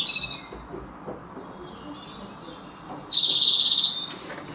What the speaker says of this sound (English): I wonder if it might be a robin.